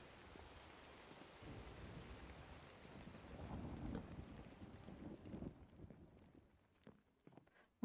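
Minecraft rain falls as a steady hiss with a low rumble swelling in the middle, then cuts off abruptly, leaving a few sparse taps and clicks.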